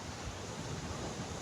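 Sea waves wash up on Malvan beach in a steady, broad roar of surf with some wind noise, moderately loud and continuous, with no voices.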